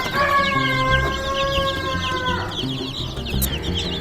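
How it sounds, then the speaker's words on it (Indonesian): Many day-old village chicks peep in high, rapid chirps throughout, over a louder drawn-out rooster-like crow near the start and low clucking beneath. "jadi kali ini kita baru menetaskan anak ayam baru umur 1 hari ini"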